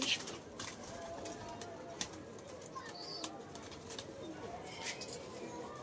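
Pigeons coo softly and repeatedly, with a few faint chirps and rustles around them in a quiet outdoor setting.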